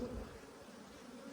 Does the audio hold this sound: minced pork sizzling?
no